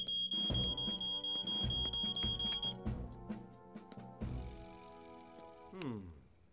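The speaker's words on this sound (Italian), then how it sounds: "io non credo che il rilevatore di fumo sia scattato da solo" A cartoon smoke detector goes off in a fire-station story, a shrill continuous electronic alarm tone lasting a couple of seconds amid clinks and busy animated sound effects.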